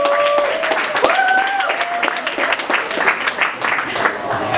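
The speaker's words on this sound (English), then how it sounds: "I'm going to ask you to have a strong applause for our first candidate" Audience applause at a student government debate, steady clapping throughout under a few brief voices, fairly close and loud.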